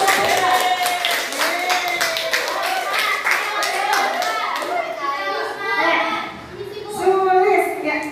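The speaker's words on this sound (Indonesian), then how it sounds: "Beri tepuk tangan untuk" Schoolchildren clap in a classroom, a burst of brisk hand claps mixed with children's chatter and voices that rise and fall, fading into talk and then picking up again.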